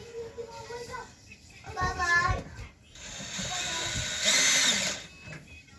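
Power drill driving Chinese screws into an aluminum battery housing during repair of an 8s lithium iron phosphate BMS battery bank; several short whirring bursts, the longest near the end, with a voice talking between them.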